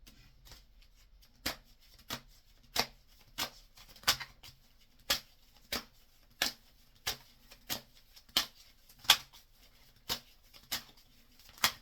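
A deck of playing cards is shuffled over and over, with crisp riffling bursts at a steady, unhurried pace of roughly one every half second to second, close and alone against near silence.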